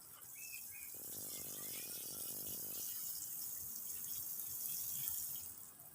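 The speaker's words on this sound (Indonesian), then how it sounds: "Kita siram agar perakarannya cepat beradaptasi terhadap media barunya." Water pours and splashes steadily onto soil around a newly planted grapevine, a soft continuous trickle with faint dripping, fairly quiet and close.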